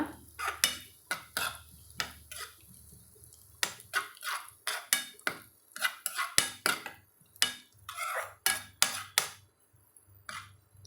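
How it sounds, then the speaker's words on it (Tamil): Chopped cashews and raisins roasting in a pan, with a spoon scraping and clinking against the metal in a quick irregular rhythm of sharp taps, close and alone. "அதையும் இதில் சேர்த்தி வறுத்துக்கலாங்க"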